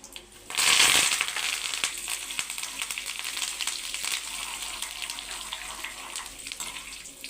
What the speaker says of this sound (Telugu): ఇందులోకి కరివేపాకును కూడా వేసుకుందాం.